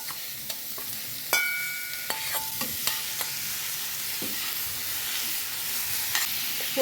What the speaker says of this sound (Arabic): دلوقتي كده بعد ما البصل اتشوح هننزل عليه باللحمه المفرومه، هنحطها في الطاسه